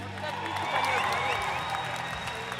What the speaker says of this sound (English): Let's make some noise for Nick Bruce.